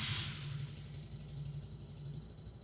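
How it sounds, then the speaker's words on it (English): A 2008-2019 Polaris Outlaw 50 ATV engine warms up at idle with a steady, low, even putter. It stays fairly quiet and unchanging throughout, with no talking. "Start the engine and allow it to warm up at idle for 2 to 3 minutes."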